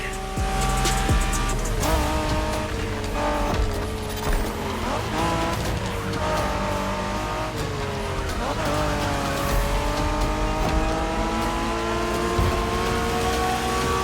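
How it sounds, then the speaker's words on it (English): Race cars in The Crew Motorfest tear through a Japanese street race, with loud continuous engine roar, shifting revs and tire squeal, and music layered underneath throughout. "We're going for some proper Japanese street racing"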